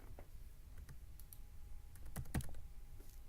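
Keys on a computer keyboard clack in quick, irregular bursts of typing, close and fairly quiet against a light background hum.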